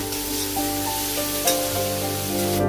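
Garlic and onion sizzle steadily in a pan while being stirred, a continuous hissing fry with a steady background hum and a few soft scrapes.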